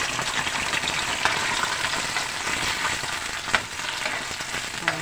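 Sardines and egg frying in a pan with garlic, a continuous bright sizzle with sharp splatters and pops, close and steady, with no talk over it.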